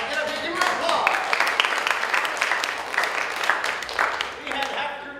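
Audience applause at an improv showcase after a game of blind freeze tag, a steady dense clapping that holds for several seconds, with voices mixed in.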